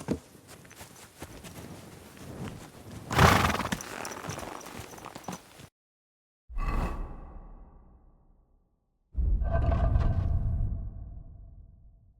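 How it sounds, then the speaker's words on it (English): Horses in Kingdom Come Deliverance 2 whinny and snort near at hand, with swishing movement and hoof clip-clop in separate bursts broken by brief silences. "The horses are waiting, so let's go."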